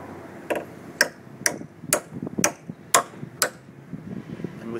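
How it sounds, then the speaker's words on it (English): A 3-inch nail is hammered into the end of a timber roof batten while a thatched roof is fitted, with seven sharp, evenly spaced blows about half a second apart, close and loud over quiet background. "To do this, you drive a 3-inch nail into the end of the roof batten."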